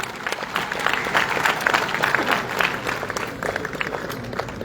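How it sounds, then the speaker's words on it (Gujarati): Audience applause at a state award ceremony at Mahatma Mandir, honoring a folk literature scholar: lively, fairly loud clapping from a large crowd, continuous and unbroken for several seconds. "ખૂબ તાળીઓ સાથે જાની સાહેબનું સન્માન થવું જોઈએ."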